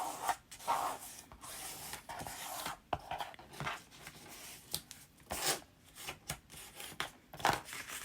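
Folded paper edges are burnished flat by hand, giving soft, close rubbing and scraping strokes in short irregular bursts with brief pauses between them, alone with no voices.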